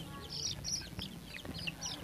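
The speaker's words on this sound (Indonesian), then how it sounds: "ini anak ayam baru berumur 2-5 hari ya teman" Chicks two to five days old peep in short high chirps, several overlapping and continuous throughout, fairly close with low background rumble.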